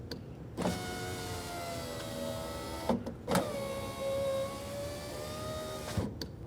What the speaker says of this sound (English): let's test the functionality of the window regulator, window motor, and of course the window itself